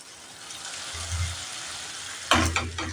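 Pumpkin pieces for komro chakka fry in a covered pan with a soft, muffled sizzle, which turns into a sudden louder burst of crackling as the lid comes off.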